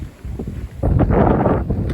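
Wind gusts buffet the microphone outdoors on a day hike at Midewin, a low rumbling roar that swells loudly after a short softer stretch and stays strong.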